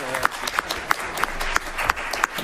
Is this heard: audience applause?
yes